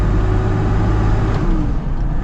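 Mercedes G Wagon diesel off-roader with an overland build accelerating, a loud steady engine drone heard from inside the cabin, its pitch rising briefly before easing off.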